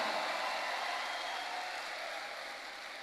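Dense, sustained crowd applause with raised hands at a motivational speech event, loud and steady throughout, tapering only slightly toward the end.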